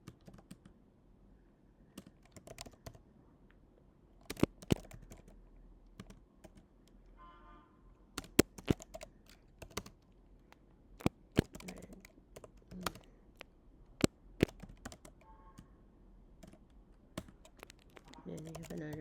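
Quiet clicking of keys on a computer keyboard in irregular bursts, close and fairly soft, with faint speech in the background.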